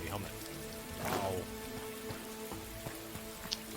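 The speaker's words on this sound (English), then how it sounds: "This rain is quite like atmospheric, especially when there's a fight going on." Steady rain patters through a nighttime scene in the Mordhau survival RPG mod, a continuous hiss of drops on surfaces with a few brief clanks and thuds over it, and a voice briefly audible in the mix.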